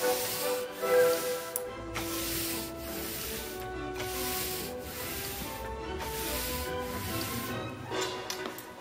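Varnish being brushed onto a canvas giclee print, a soft, close rubbing swish in repeated long strokes with brief pauses between them, quiet and alone.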